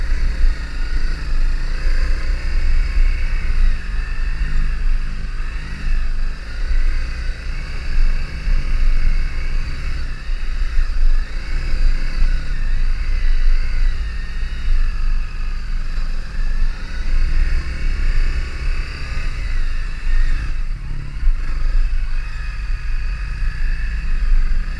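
A kid's dirt bike rides over a bumpy gravel path, its engine droning loud and continuous with a steady rumble and small wavering shifts in pitch throughout.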